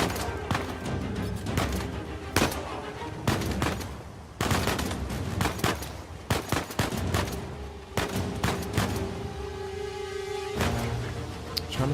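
Pistol fire in Uncharted 4 from behind cover in an elevator area, in sharp single shots spaced irregularly through the stretch, loud and close, with some fainter answering fire and a steady game-ambience hum.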